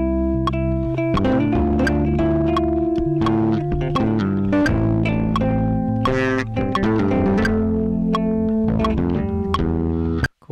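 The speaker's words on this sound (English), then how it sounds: "Got a bass line idea that I just looped" A dense looped electronic beat built in Ableton, with a thick, distorted bass line repeating under layered synth tones and percussion, loud and continuous before cutting off abruptly at the end.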